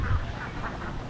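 Domestic ducks from a flock of over 2000 farm birds quack in a brief, dense burst, many overlapping calls close by with no pauses.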